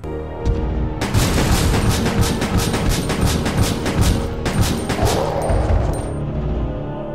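Handgun gunshots in Resident Evil Survivor 2, a loud rapid string of shots fired in quick succession for several seconds, then tapering off with fading echoes.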